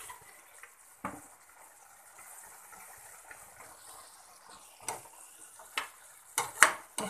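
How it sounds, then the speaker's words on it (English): Sprouted methi and tomato mixture with red chili powder and spices being stirred in a pan, giving scattered scraping clicks and a soft background sizzle, with louder knocks of the spoon toward the end. "Mix it well."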